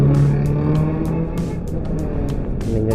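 A car passes along a busy road on New Year's Eve night on the Ciawi–Cicurug route, its engine a steady loud rumble mixed with the whoosh of other traffic, heard up close from a moving motorbike.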